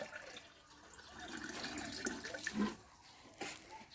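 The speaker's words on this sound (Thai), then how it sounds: "เอาน้ำใส่ไหค่ะ ใส่ไปเลยประมาณ ค่อนๆไหตรงตรงนี้ได้เลย ครึ่งไหก็ได้ค่ะ" Water is poured into a clay jar to fill it about halfway, ready for a self-watering potted plant; a soft, fairly faint splashing and gurgling runs throughout, swelling briefly near the end.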